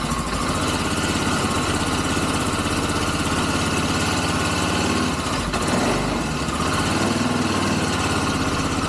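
An ATV quad engine runs in the snow after starting, a steady, loud, buzzing idle with a slight choke, close by and continuous with no talk.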